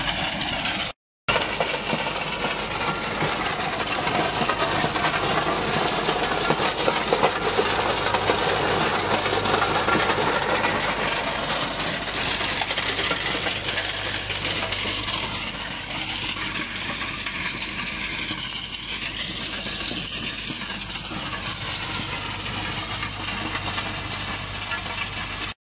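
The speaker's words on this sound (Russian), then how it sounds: "Вот перед вами трактор МТЗ-82 с почвофрезой сванагра РТ-200." An MTZ-82 tractor drives a Swan Agro RT-200 rotary tiller through stony soil, a continuous dense churning roar with rattling and clinking stones that holds for the whole stretch after a brief cut near the start.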